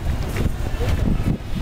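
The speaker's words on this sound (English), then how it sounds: "Sorry about the wind." Strong wind buffets an outdoor microphone beside a building, giving a loud, continuous low rumble with gusty swells and no voices.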